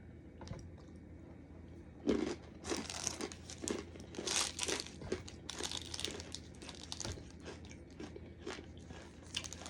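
A plastic Chick-O-Stick peanut candy wrapper crinkled open close by, followed by crunchy snapping as the brittle candy stick is broken apart, irregular bursts over a quiet background.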